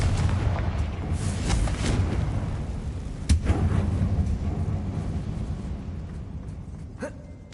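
Confringo blast spell exploding in a Hogwarts video game mine, a rumbling burst followed by a sharp crack and a long fading boom, with ambient game sound.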